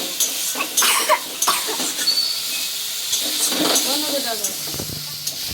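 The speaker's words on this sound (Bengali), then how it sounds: "ভাজা আলু আর পনির আমরা দিয়ে দেবো" Fried potatoes and paneer are stirred into sizzling masala in a pan. Close clattering spoon scrapes ride over a constant hiss, with a brief cough.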